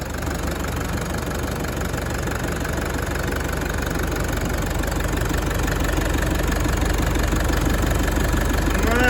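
A freshly rebuilt Toyota Prado 1KD diesel engine idles steadily just after startup, a loud, close, continuous clattering knock with an even rhythm and no talk over it.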